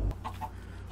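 Chicken clucking in the video game Minecraft, a brief pair of short clucks following a low thump, fairly quiet and alone.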